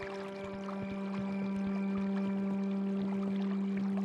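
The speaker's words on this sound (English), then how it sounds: "Flowing river." A flowing river in the Kingdom: New Lands video game gives a soft, steady pouring rush of water, faint and constant beneath sustained musical tones.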